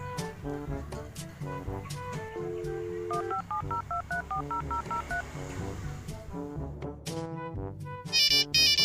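A telephone number is dialed, with a rapid series of short keypad tones over a busy musical background and a brief burst of higher electronic tones at the end.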